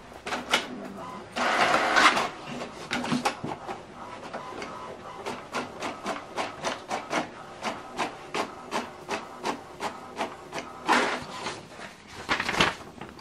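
An HP DeskJet 3700-series inkjet printer prints a test page close by, its print head shuttling back and forth in a rapid, regular rhythm of clicks and whirs, with brief louder feed bursts.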